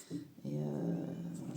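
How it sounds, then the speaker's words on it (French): A domestic cat vocalizes indoors, a drawn-out, moderately loud meow-like cry following a short earlier call, while a person speaks briefly nearby. "si tu l'entends miauler, il va très bien"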